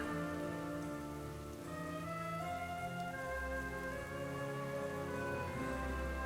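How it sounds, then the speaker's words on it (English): Steady rain falls in the ruined city of Gilneas in World of Warcraft, a soft, even hiss spread under sustained tonal game music throughout. "I'm assuming this place is perma-rain or pretty close to it"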